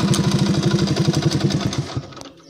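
Motorcycle engine idling close by after a carburetor petrol adjustment, a steady even putter with rapid regular firing pulses, then the revs drop away and the engine fades toward silence near the end.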